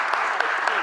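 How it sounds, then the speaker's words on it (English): Applause from a city council committee audience for a young public commenter, a brief steady patter of clapping lasting under a second with no voices over it. "Let's give her a round of applause."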